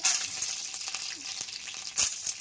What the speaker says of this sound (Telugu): కాగిన తర్వాత 5-6 ఎండుమిర్చి వేసుకున్నానండి. ఎండుమిర్చి కొద్దిగా వేగాలి.